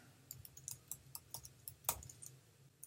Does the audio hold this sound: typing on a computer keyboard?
yes